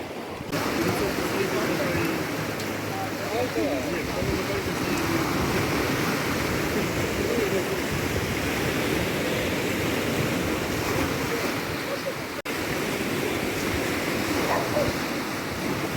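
Black Sea surf on a beach in Odesa gives a steady, broad wash of breaking waves that carries on without a break, fairly close and loud, with no clear speech over it.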